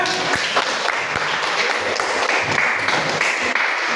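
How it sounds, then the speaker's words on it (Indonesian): Audience applause in an Indonesian classroom teaching practice session after a group's debate presentation, a steady broadband wash of many hands clapping that fills the whole stretch with a few sharper individual claps standing out. "Mana tepuk tangannya?"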